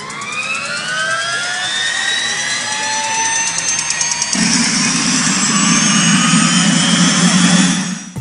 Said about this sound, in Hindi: इस बाइक का स्टार्टअप साउंड कुछ ऐसा है